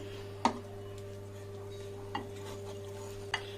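Boondi laddu batter being stirred in a bowl, a spoon knocking against the side three times at uneven intervals over a steady low hum.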